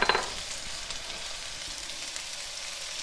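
Ginger and garlic hit a hot stir-fry pan with chicken, mushrooms and vegetables, giving a soft, steady sizzle and faint stirring clatter at low volume, heard alone.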